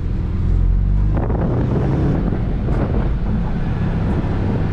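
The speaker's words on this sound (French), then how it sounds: "je vais quand même baisser les vitres et vous faire écouter l'échappement d'origine" Stock exhaust of an Audi RS6 or Mercedes-AMG G63 with windows lowered, a steady low rumble from inside the cabin mixed with wind and road noise, swelling slightly after a second and holding throughout.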